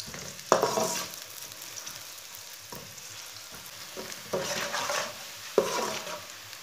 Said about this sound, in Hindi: प्याज को ना हल्का सा ब्राउन कर लेंगे। इसे मीडियम आंच पर ना ब्राउन कर लेना